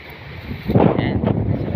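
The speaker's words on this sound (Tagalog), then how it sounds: "Sarap guys ng hangin dito" Wind gusts buffet the microphone in a loud, rushing roar that swells after a moment, at Bitbit River near Ipo Dam.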